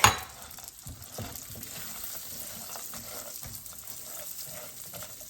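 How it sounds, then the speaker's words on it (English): Roasted unsalted peanuts being stirred into hot caramel in a pan, giving steady scraping and sticky stirring noises with a soft sizzle underneath, close and continuous, with no talking. "And while I'm mixing it in, I'm going to add the 2 cups of roasted unsalted peanuts."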